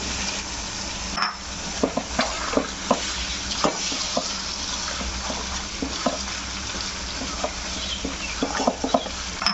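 Chopped onion sautéing with chicken in a pan for Pakistani-style chicken, a constant close sizzle broken by repeated scraping stirs and clinks of the spoon against the pan.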